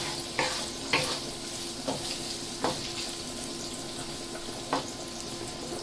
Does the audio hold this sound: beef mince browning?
yes